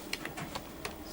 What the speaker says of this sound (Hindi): ये तो टाइपिंग हो गया